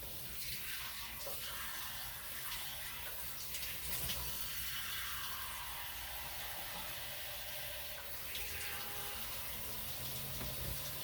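Water from a tap running steadily into a measuring cup for cooking rice in a kitchen, a soft continuous trickle and splash heard alone, fairly quiet, for about eleven seconds.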